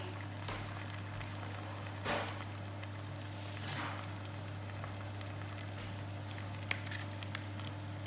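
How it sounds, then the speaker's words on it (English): Small piece of potato frying in hot oil, a steady soft sizzle with light crackles and a few louder pops, alone and fairly quiet under a constant low hum. "In here you can put a small piece of potato to see if the oil is ready"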